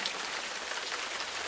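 Steady rain falls on a wet street at night, a dense continuous hiss of drops spattering on pavement, close and even throughout with no voices.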